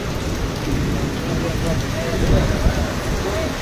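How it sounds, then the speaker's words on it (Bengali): Heavy rain pours steadily in Rupnarayanpur, a dense, continuous hiss and patter close by that holds an even level throughout, with a faint voice underneath. "খুব বৃষ্টি হচ্ছে"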